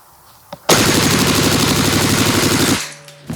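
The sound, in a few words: KWA KR7 full metal gas blowback airsoft rifle mag dump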